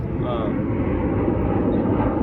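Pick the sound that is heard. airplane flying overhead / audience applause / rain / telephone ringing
airplane flying overhead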